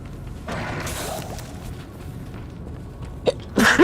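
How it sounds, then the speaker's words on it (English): A single human sneeze lands near the end: a short sharp intake-like burst, then a louder explosive release, heard close over a low steady game backdrop. "That was a very painful sneeze."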